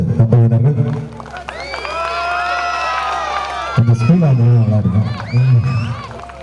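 A crowd at a temple festival celebration in Thoothukudi district claps and cheers while a voice talks over a loudspeaker, with musical tones ringing through the middle; the clapping stays continuous and mixed with crowd noise.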